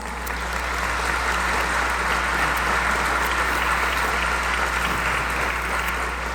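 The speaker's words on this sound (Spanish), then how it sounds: "Démosle nuevamente un fuerte aplauso a todos nuestros panelistas." A large audience applauds steadily, a dense wash of clapping that holds at a constant level throughout.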